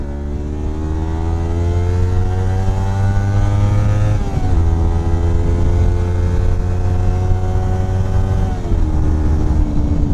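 A Kawasaki Versys X Tourer ABS motorcycle accelerates hard with a smooth, rising engine whine that briefly drops in pitch at two gear changes, loud and close with no talking.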